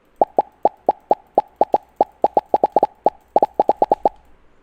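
Scratch's pop sound effect triggered by clicking a sprite, a series of short bright pops repeating in quick, uneven bursts of clicks, close and clean with no talking.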